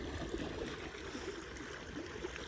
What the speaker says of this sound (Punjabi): ਲੋ ਭਾਈ ਪਾਣੀ ਛੱਡ ਦਿੱਤਾ